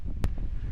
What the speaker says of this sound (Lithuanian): Vėjas dabar pučia į šoną.